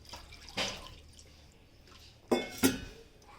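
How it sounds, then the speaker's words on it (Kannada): Water poured into flour for a dough, heard as a few short splashy bursts, one early and two close together near the end, quiet and nearby without speech. "ನೀರು ಹಾಕಲಿ"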